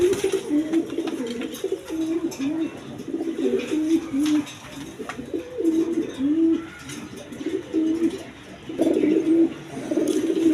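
A new adult pair of Blackless Shirting pigeons coo steadily in a pen, their low rolling calls repeating close by over a constant background of other birds, with no talk.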